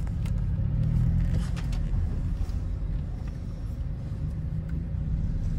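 Steady road traffic in Tanay, Rizal: a continuous low rumble of passing cars and motor vehicles, loud and close throughout, with no talking.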